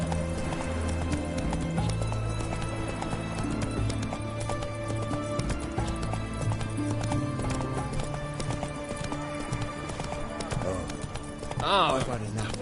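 Galloping horse hooves in The Witcher 3: Hearts of Stone, a steady rapid clip-clop running throughout over game music, with a voice speaking over it and a brief whinny near the end.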